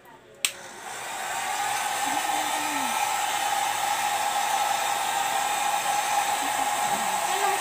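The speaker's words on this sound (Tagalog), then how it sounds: "Ipo-blower natin yung buhok ni Mama." A hair dryer switches on with a click and blows steadily, a loud constant whirring hum that holds without pause.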